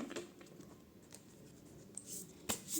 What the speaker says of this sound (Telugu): అన్ని కార్డ్స్ అయితే తీసుకోలేము సో అందుకే నేను మళ్ళీ షఫుల్ చేస్తున్నాను